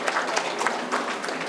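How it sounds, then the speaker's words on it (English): Audience applause for panelists at a biomanufacturing and biofoundries conference session, a dense, steady clatter of many hands clapping throughout the short stretch with no speech. "Please give a big round of applause for all our panelists today."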